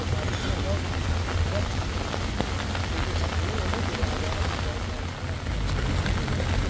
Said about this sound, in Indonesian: Hujan semakin deras di Batu Jombe ini.